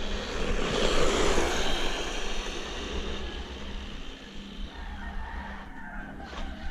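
A 1/16 scale brushless 4x4 RC truck runs at full speed on two connected batteries, giving a loud, high-pitched electric motor whine with tire rush that peaks early, then eases off.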